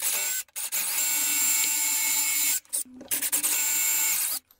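A 4 mm drill bit grinds into the electrode of a stuck glow plug in short, loud, high-pitched bursts, broken by brief pauses and a few scraping stops.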